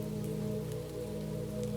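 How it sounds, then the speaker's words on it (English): Soft, steady rain falls in a continuous gentle patter under a low hum, quiet and even throughout, with no voices. "Then, as Mira walked, rain began again."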